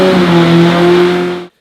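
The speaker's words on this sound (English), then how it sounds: "This guy likes the engine noise so much he turned up in his orange onesie" A loud race car engine roars at a high steady pitch with a buzzing tone, holds briefly, then cuts off abruptly into silence.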